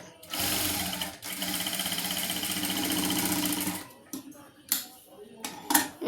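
A sewing machine stitches fabric in a fast, steady mechanical chatter for several seconds, then stops, followed by a few sharp clicks and handling knocks.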